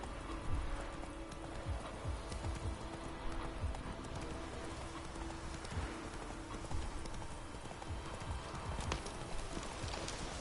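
Horse hooves clip-clop at a slow, steady walk in the video game The Witcher 3, a quiet, even rhythm over a soft ambient background with no talk.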